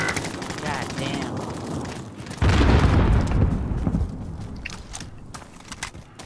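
A frag grenade detonates in the Call of Duty: Modern Warfare video game as a sudden heavy boom midway through. It swells loudly, then rumbles away amid ongoing game noise, with players talking over the action.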